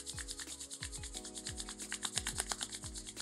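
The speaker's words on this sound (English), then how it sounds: "Rub your palms together for 30 seconds." Hands rubbing palm against palm in quick, even strokes, soft and close, set against quiet background music with no voice.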